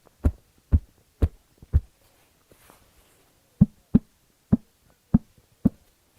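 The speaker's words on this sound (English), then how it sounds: "So let's listen to your fabric." Fabric pulled taut and snapped in quick tugs for patchwork, giving four dull thumps, a short pause, then five more, each a low resonant pop heard alone and close.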